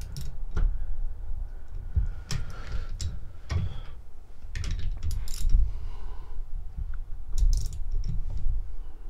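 Wrench turning the engine of a Yamaha Raptor 250 to set the timing, producing close, irregular metallic clicks and ratcheting ticks over a low mechanical rumble, with no voices.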